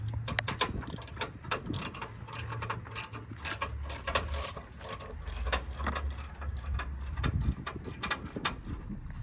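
A ratchet wrench clicks in rapid, uneven bursts while spark plugs are changed on a racing engine at a track, fairly close and with no talk over it.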